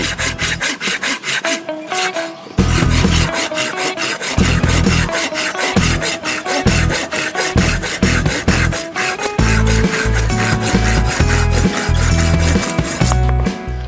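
A Silky GomBoy 240 folding pruning saw cuts through wood in steady back-and-forth strokes, each pass a loud, close rasping rub that repeats rhythmically throughout with only brief pauses.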